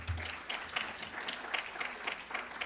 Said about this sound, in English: Let's give us a round of applause for Doug Adams.